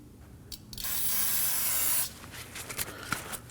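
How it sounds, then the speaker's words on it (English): A can of brake parts cleaner sprays in one sustained hissing burst for over a second, close by, cleaning an ABS wheel speed sensor area on a Kia Optima, followed by faint clicks and handling sounds. "spray some brake parts cleaner to make sure we get rid of any debris"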